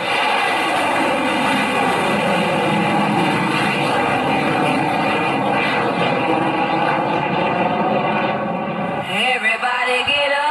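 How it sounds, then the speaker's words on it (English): A loud, sustained rocket ignition and launch sound effect plays over the sound system at a school annual day performance, a dense roaring rumble that fills the hall before fading into music. "We have ignition."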